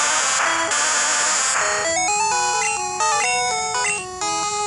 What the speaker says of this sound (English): So this is the cry of Oddish.